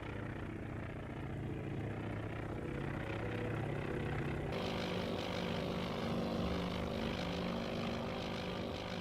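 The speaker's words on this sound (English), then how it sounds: "now you can hear the engines go." Aircraft propeller engines on a WWII carrier deck in the naval game Task Force Admiral, a steady droning roar that swells louder and brighter partway through, with no voices.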